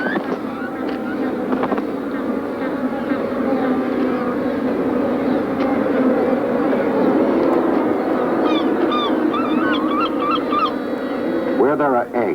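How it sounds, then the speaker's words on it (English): Over a million seabirds calling at once in a crowded rookery, a dense, ceaseless roar of overlapping honking cries filling the whole scene, loud and continuous with no pauses. "There are over 1 million birds here, filling the rookery with ceaseless noise and activity."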